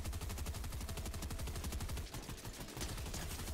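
Rapid automatic gunfire from a Fortnite match, dense repeated bursts of shots rattling continuously with a brief dip midway before resuming, loud and close with no talking.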